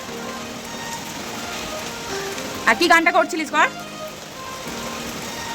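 Steady rain hissing on surfaces throughout, with a brief burst of people talking in the middle.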